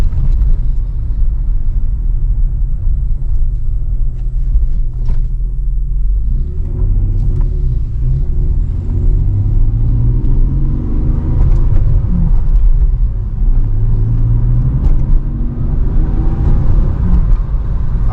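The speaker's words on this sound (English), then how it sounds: "if you crack the window a little bit, you can actually hear the turbo." A turbocharged 200ZR car engine rumbles low and loud from inside the cabin, rising and falling as it accelerates, with faint turbo whooshing air over the drone through a cracked window.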